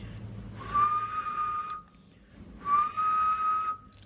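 A person whistles into the microphone of a Kenwood TS-790S VHF/UHF radio transceiver in USB mode, two sustained steady-pitched whistles, each about a second long, separated by a short pause, fairly clear over a faint background hiss.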